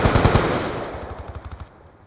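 A burst of rapid automatic gunfire in Call of Duty: Black Ops II, close and loud at first, then a quicker, fainter rattle that trails off within a couple of seconds.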